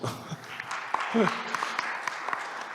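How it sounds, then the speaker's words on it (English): Audience applause at a startup investor pitch event, moderate and steady, with scattered claps and some chatter or a voice underneath. "Will you give him some applause, please?"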